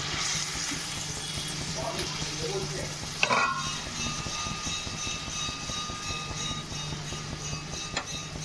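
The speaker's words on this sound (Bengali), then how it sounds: "আবার একটু ভেজে নিতে হবে টমেটোটা।" Chopped tomato frying in a pan, then boiled potato and drumstick pieces stirred in, giving a steady sizzle with scraping and stirring clatters and a sharper clink near the middle.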